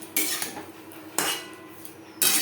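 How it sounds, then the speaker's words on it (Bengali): A spoon scrapes and clanks against a pan while taro and spices are stirred, three loud close scraping bursts with short quiet gaps between. "মশলার সাথে গাটি কচু বেশ ভালো করে মিক্সড করে দেবো"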